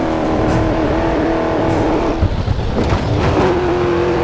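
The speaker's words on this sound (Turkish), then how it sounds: "Drift attım." An Audi drifts, its engine droning loud and steady, then roughening and climbing in pitch as it slides, with a faint hint of tyre noise and no voices.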